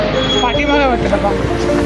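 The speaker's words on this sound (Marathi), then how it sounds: "मित्रांनो फायनली ट्रेन आलेली आपली" A passenger train on the route from Gangapur to Pandharpur rumbles steadily and loudly nearby, its continuous roar running beneath someone talking.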